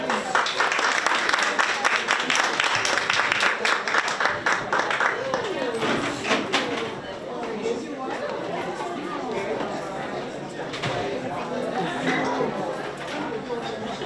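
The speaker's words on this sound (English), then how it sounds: "Can we give her another round of applause?" Audience applause at a community literacy town hall in the South Ward, dense clapping at the start that thins out under crowd chatter and voices for the rest.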